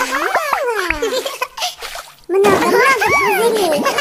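Water splashes during a washing scene in the My Talking Angela 2 mobile game, with brief wet sloshes under a high, playful cartoon voice that talks and giggles throughout.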